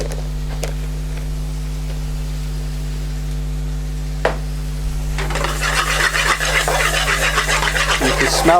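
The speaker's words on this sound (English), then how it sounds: "Now we want to cook this on a fairly high heat so as to bring the flavour out of the spices" Spices cooking in a pan on fairly high heat, stirred and scraped with a few sharp clicks, then a louder rising sizzle and crackle in the last few seconds, close and dry.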